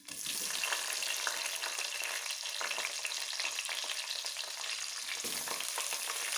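Chopped large onion fries in hot oil with a curry-leaf tempering for coriander rice, a dense, steady sizzle close up with light stirring scrapes and no speech.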